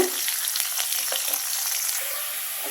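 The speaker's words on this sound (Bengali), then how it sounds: "দিয়ে দিব আমি পেঁয়াজ এবং রসুনের কুচিটা দিয়ে আমি ভালো করে ব্রাউন কালার করে এগুলো ভেজে নিব" Chopped onion and garlic fry in oil until browned for a tomato sour dish, a continuous close sizzle with light crackles, steady in loudness and free of talking.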